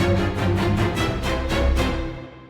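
A full epic cinematic orchestral track with strings, brass and percussion plays loud and dense, with regular heavy hits pounding through the sustained layers before the sound fades at the end. No one talks.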